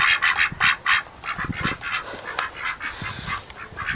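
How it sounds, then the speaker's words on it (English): Four Pekin ducks quacking near a farm coop, a quick run of loud, close nasal quacks overlapping in uneven bursts with no talk. "So we have the 4 Pekin ducks"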